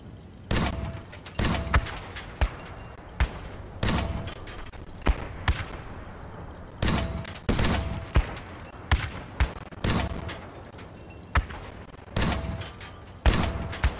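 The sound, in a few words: Retro weapon firing grenade volleys in the video game Crossout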